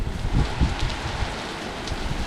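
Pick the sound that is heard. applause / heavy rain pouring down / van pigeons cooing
heavy rain pouring down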